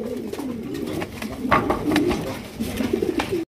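A pair of large yellow Lahori pigeons coo in low, rolling throaty phrases, close by and fairly loud, repeating over a few seconds against a busy background.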